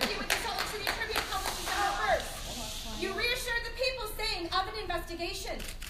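A town hall audience claps in scattered, uneven bursts with some cheering, while voices talk over the noise throughout.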